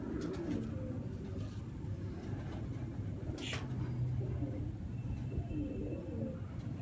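Purebred pigeons cooing nearby in a loft, soft low rolling coos over a steady background hum, with no talking.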